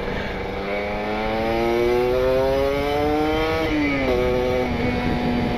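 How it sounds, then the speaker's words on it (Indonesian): A Kawasaki Ninja RR two-stroke motorcycle with an R9 Neo Mugello carbon exhaust and a wet carburetor tune revs loudly and steadily up close, its pitch climbing slowly and then dropping back to a high idle, with no one speaking. "Jadi kalau udah panas baru ada nadanya nih motor."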